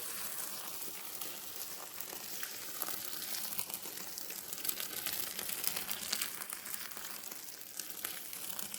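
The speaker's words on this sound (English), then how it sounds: "I'm just going to pour boiling water over it here." Boiling water is poured over violet flowers in a kitchen while making violet flower jelly, giving a steady hissing, crackling splash that runs on without a break and with no talk.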